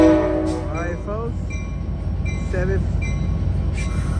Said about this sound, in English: 715 is now departing the Emeryville Amtrak station